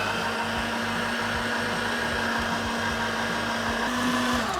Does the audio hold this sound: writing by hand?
no